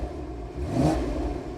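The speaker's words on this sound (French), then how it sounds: "Damien, on est là pour écouter le moteur." A Porsche Cayman or Boxster engine swells briefly in a single rev, rising and falling over a steady mid-range drone, heard up close with no voices.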